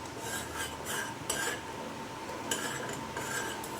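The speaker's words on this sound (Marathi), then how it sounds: "छान असं मिक्स करून दणकून त्याला उकळी काढायची आहे आपल्याला" Tea simmering in a pot on the stove while a spoon scrapes and clinks against the metal in repeated stirring strokes, close and fairly clear.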